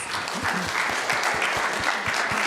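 A crowd gives a big, continuous round of applause for the presenters after an afternoon talk on monarch butterflies in Mexico. The clapping is dense and steady throughout, close and fairly loud.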